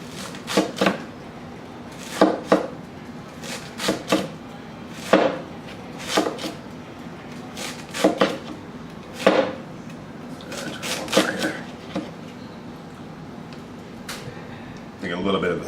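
A 5.5-inch Damascus nakiri knife chops through a dense, fibrous fennel bulb on a board, landing about a dozen crisp, close strikes in an uneven rhythm, some in quick pairs, over a steady low background.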